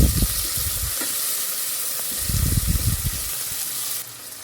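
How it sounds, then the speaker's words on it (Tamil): Tomato sautés with onion in a pan for a sambar, making a steady sizzling hiss broken by low scraping stir bursts near the start and middle, then easing quieter toward the end. "தக்காளி ஒரு 2 நிமிஷம் பக்கம் நல்லா வதக்கி விட்டுக்கலாம்."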